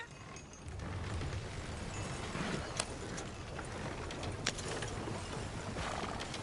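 Horse hooves clip-clopping at a steady walking pace in the video game Red Dead Redemption 2, over a low background hum, with a couple of sharper knocks mixed in.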